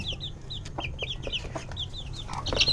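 Fifteen-day-old native chicks cheep and cluck in rapid, repeated high calls, fairly close, over a low background hum.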